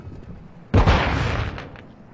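A single heavy gunshot boom from hollow point rounds in a video game bursts in after a quiet moment and rolls off into a long fading rumble, close and loud.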